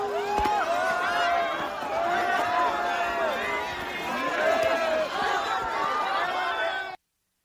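A hostile crowd pelts police officers with chunks of ice. The result is a dense, close hubbub of many shouting and chattering voices, with scattered whoops and thuds, all fairly loud and continuous.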